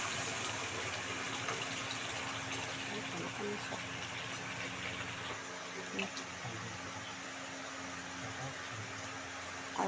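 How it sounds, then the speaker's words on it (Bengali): Water pours into a gravy of soy, chili and tomato sauce, a steady gushing stream heard alongside a continuous low hum, with talk in the background. "আর একটু হালকা জল দেওয়া হলো"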